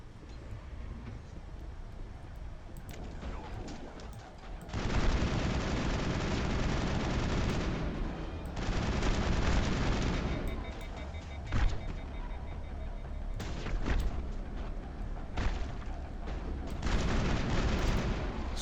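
Mass Effect firefight with gas grenades: dense bursts of game gunfire and blasts come in waves over a continuous combat din, loud and busy with brief quieter gaps, no speech.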